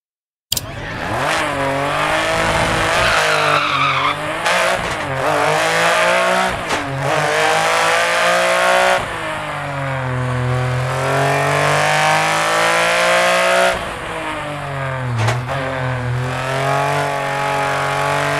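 Lancia Stratos rally car in the game Dirt 2.0 on a Spanish stage at Centenera, its engine loud and continuous, revving up and down through gear changes with occasional tire squeal, heard alone without talk.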